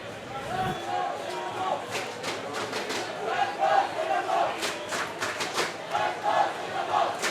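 A cheering section at a windy outdoor mixed ultimate frisbee pool-play match at the 2014 world club championships, shouting and chanting from a crowd at a moderate distance, with commentary running over it.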